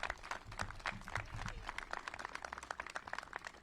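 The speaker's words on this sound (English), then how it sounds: "You can clap for that too." An audience at an Illinois clean energy bill signing claps in a brief spatter of scattered, fairly faint, irregular claps.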